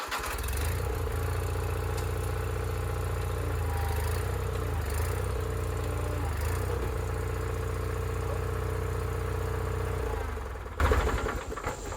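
A tractor with a front loader being installed drives forward to rock the loader into its shackles, its steady mid-pitched engine running continuously and close, with a louder clunk and shift near the end.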